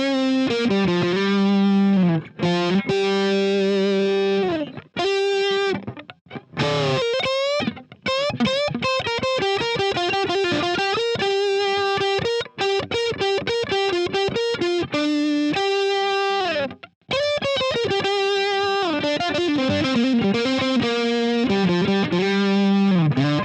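Les Paul electric guitar played through a MojoTone Lerxst By-Tor boost and drive pedal, giving a loud, continuous distorted tone with sustained chords and riffs, a few brief gaps, no talking.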